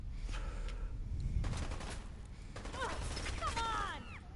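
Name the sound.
gunfire in Fallout 4 video game, Piper drawing fire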